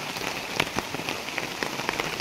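Heavy rain pours steadily onto a simple garden beside a river, a dense continuous hiss with scattered sharper drop impacts, close and fairly loud, with no voices.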